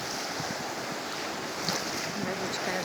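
Sea surf on a windy shore, a dense continuous wash of breaking waves mixed with wind buffeting the microphone, steady and fairly close.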